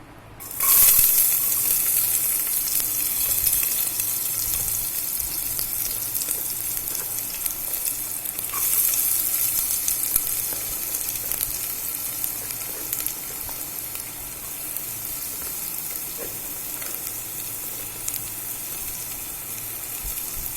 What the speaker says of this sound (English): So I'm going to add the onions to it.